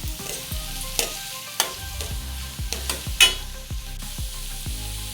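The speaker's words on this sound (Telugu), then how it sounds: "ఇవి కొంచెం మగ్గే వరకు, డీప్ ఫ్రై అయ్యే వరకు ఆనియన్స్ ఫ్రై చేద్దాం" Onions deep-frying in hot oil for veg Manchurian give a steady sizzle, with stirring knocks and scrapes every second or so and a low tonal bed running underneath.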